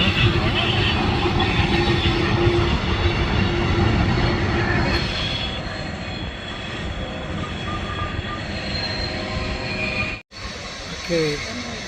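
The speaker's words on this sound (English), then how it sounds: "here's the end of the train, and meanwhile, the front parts are still going through over here" A long freight train rolls past near Tehachapi, a dense steady rumble and rattle of wagons that fades somewhat partway through, heard outdoors.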